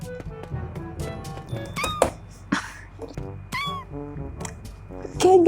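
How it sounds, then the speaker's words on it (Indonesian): A cartoonish cat meows repeatedly in The Walking Pet video game, several short rising and falling calls spread across the clip among clicks and thunks, with the last meow loudest. "Mana sih kucing?"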